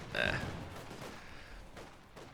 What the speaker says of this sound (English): I hear an AA half-track firing